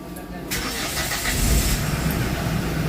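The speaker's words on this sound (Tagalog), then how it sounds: "papaandarin natin muna yung engine" A Hyundai H100 van engine is cranked and catches with a sudden loud burst, then settles into a steady, rough, close-up run.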